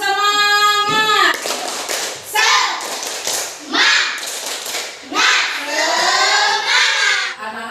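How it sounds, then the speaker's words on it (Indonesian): Children in a classroom chant together and perform a rhythmic spirit clap (tepuk semangat), with sharp clusters of hand claps falling between the loud group chanting. "tepuk semangat."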